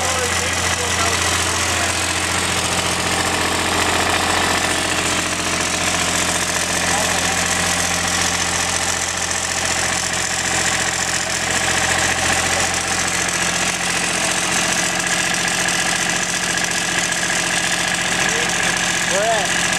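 A repaired diesel engine idles steadily with an even, rumbling clatter, close and continuous, while people talk over it now and then.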